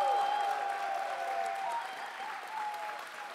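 A crowd at the Arctic Gaming Experience 2022 Trackmania event applauds a player, a loud sustained roar of clapping that slowly eases, with faint tonal background sound beneath.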